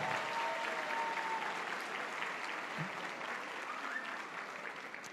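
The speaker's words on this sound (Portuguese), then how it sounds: "Salva de palmas para ele." A church congregation gives a steady round of applause after a family's thanks at a service, a dense wash of clapping held at an even level for several seconds, with a brief voice cutting in partway through.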